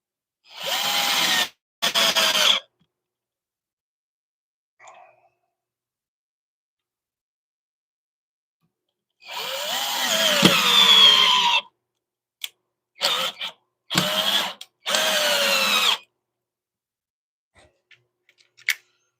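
A power drill drives screws into a wooden bowl setup at a woodturning lathe, heard as several short whirring bursts separated by silent pauses, with a few faint clicks between them.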